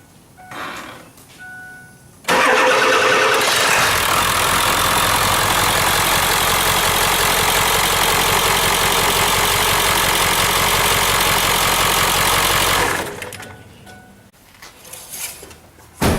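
A diesel truck engine cranks to life after an oil change, then runs at a loud, steady idle for about ten seconds before it is shut off. Quieter handling noises come before and after the run.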